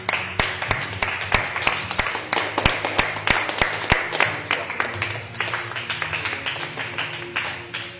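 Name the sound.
congregation clapping and acclaiming Jesus at prayer meeting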